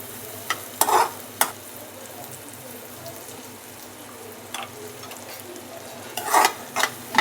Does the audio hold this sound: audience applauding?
no